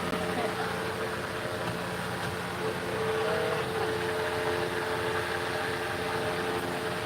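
A truck engine idles in a steady, low, unbroken drone close by, running the whole time beneath people talking.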